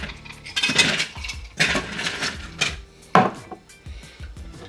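Hard clinking and clattering of ice cubes tumbling into a glass for a smoky Old Fashioned in several bursts, close and loud, with no talking.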